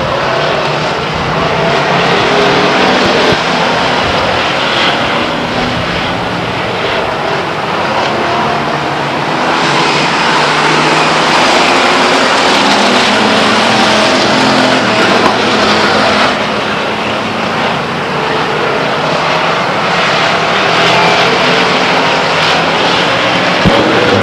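Race cars roaring around Stockton 99 Speedway, a loud continuous engine drone from a pack of cars that swells and fades slightly as they pass, filling the whole stretch without any voices.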